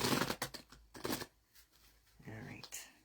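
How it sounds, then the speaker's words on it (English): Oracle cards are shuffled in quick riffling bursts, close and fairly soft, with a person talking between the shuffles. "Shuffle twice."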